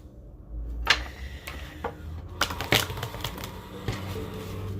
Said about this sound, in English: It really wants to be shuffled some more.